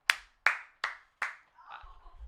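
Four sharp hand claps in a slow, even rhythm, close and crisp in a quiet room, followed by a brief low murmur of movement or voice.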